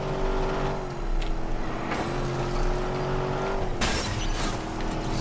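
A damaged car in the video game Watch Dogs drives with a steady, loud engine drone, a sustained tone broken by a couple of brief bursts of noise, with no talking.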